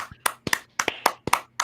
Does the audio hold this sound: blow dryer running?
no